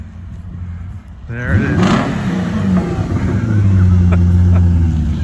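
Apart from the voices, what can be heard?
BMW E34 540i car arriving up the driveway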